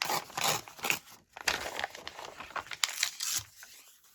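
Craft material being torn by hand, a few ragged bursts of ripping and crinkling with short pauses between, close and fairly quiet, no voices.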